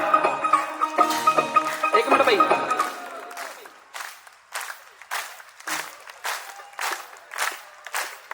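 An audience at a live devotional jagran claps in a steady, even rhythm. The beats come clear and regular after a noisier, crowded opening with music.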